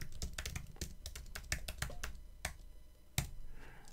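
Fingers type fast on a computer keyboard, a close burst of crisp, irregular key clicks that slows into a few spaced taps and a final firm keystroke.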